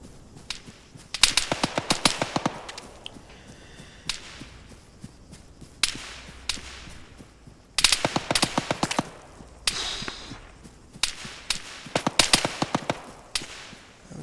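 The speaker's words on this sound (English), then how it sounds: "Taking fire again." Arma 3 gunfire in bursts, clusters of sharp cracking shots with quiet gaps between them, some bursts louder and closer than others.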